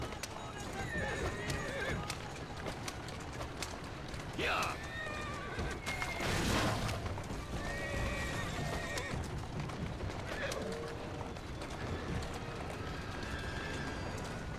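A galloping horse pulls a carriage in Assassin's Creed Syndicate, with rapid clip-clop hoofbeats, rolling wheels and repeated neighs and whinnies, close and continuous while voices speak over it.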